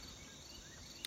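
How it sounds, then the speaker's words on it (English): Crickets chirp softly at dawn in backyard woods, a faint, steady high-pitched trill running through a quiet morning with no voices nearby. "Crickets still chirping a little bit."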